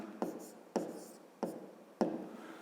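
Pen writing out a fifth-grade math solution on paper, four short scratchy strokes in a steady rhythm, close and quiet, with no talking.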